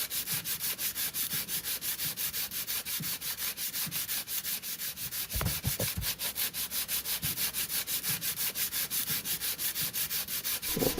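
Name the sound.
sanding a car bumper by hand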